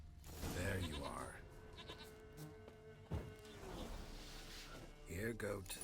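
Goat bleats from the Witcher 3 video game, a couple of wavering bleats near the start and again near the end, with someone speaking in between.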